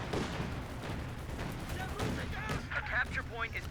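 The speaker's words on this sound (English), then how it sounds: "Luckily there's a 50 cal there, doing quite a lot of damage to the half track" Gunfire from a .50 cal machine gun in Company of Heroes 2 during a 4v4 battle in Lienne Forest, dense overlapping bursts and booming shots running throughout under a busy battlefield din.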